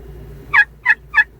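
Three quick, evenly spaced wild turkey gobble bursts from a hunting call app, loud and close against a quiet background, with no talk.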